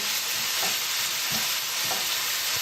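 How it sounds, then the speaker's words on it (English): A large sweet onion sautés in extra virgin olive oil, a steady close sizzle with soft periodic stirring scrapes, no voices. "I've sauteed a large sweet onion"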